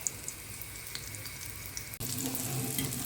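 Food fries quietly in a pan, a soft continuous sizzle that turns fuller and louder partway through, with no voices.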